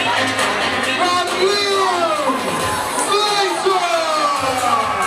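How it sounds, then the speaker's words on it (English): Crowd at a MEW Northern Bash 2017 wrestling show cheering and whooping loudly and continuously, with shrill shouts and whistles rising over a dense roar of voices, close and full throughout. "The crowd absolutely love this man"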